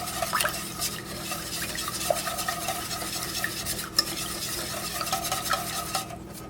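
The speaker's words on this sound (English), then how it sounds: "You'll be whisking this pudding for approximately 10 minutes." Vanilla pudding is whisked in a pot, a steady close scraping and swishing with small clinks of the whisk against the pot sides.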